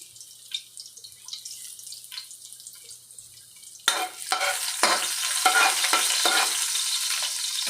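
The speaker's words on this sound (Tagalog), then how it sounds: "Una ko igigisa ay garlic." Garlic hitting hot oil in a pan, a faint quiet stir first, then an abrupt burst of loud, steady crackling sizzle that stays close and continuous to the end.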